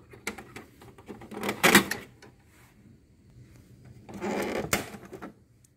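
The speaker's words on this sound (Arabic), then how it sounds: "نشيل الورقة ونسكر هذه الفتحة" The paper slot of an HP Deskjet 2130 printer being closed: two short bursts of close plastic clacking and rattling, separated by a quiet pause.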